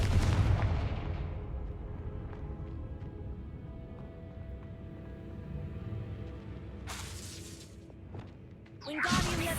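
Confringo spell blasting a barricaded archway in Hogwarts Legacy, a loud low explosive boom that rumbles and decays over several seconds, followed by a bright crackling burst of debris near the end.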